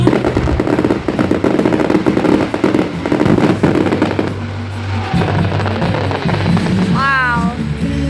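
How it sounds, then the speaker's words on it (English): Loud fireworks display bursting in rapid, crackling succession for several seconds, then thinning into a steady roar with a whistling rocket near the end, alone without talk. "Now that's what you call a firework display."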